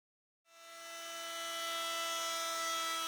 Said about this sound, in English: Keep the bearing of the router bit firmly against the lower layer as you move the router counterclockwise around the workpiece.